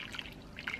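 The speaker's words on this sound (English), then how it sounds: "we're going to add some water in the bottom of the pan." Water pours into the bottom of a baking pan of stuffed peppers, a faint, brief trickling and dripping heard up close, with no talk over it.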